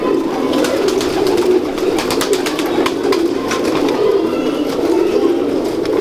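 Large Ferozpuri breeder pigeons cooing steadily in a low, rolling drone, close by and continuous, with occasional wing or cage clatter mixed in.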